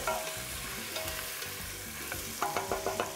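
Onions frying in a pan, a steady broadband sizzle with stirring clatter, plus a run of sharp utensil knocks against the pan near the end.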